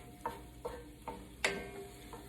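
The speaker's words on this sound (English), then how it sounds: "I don't want my spices to burn, so I'm just moving the ingredients around" Spices and ingredients for a chicken sausage, shrimp and farro jambalaya stirred in a pot, about six separate scraping strokes over soft sizzling, with one louder clack partway through.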